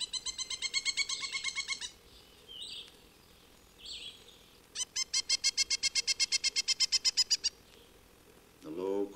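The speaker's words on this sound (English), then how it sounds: "A pileated woodpecker calls loudly before going to roost." A pileated woodpecker's loud series of rapid, evenly spaced calls, a pause with faint notes, then another long rhythmic run; a voice starts at the end.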